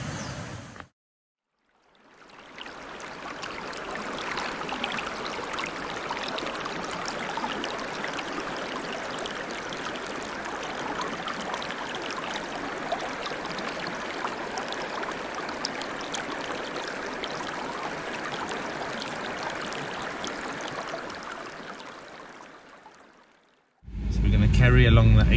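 The Elands River flows steadily with a continuous broad rushing and trickling wash that holds even and moderately loud for about twenty seconds, with brief quiet gaps at the start and end.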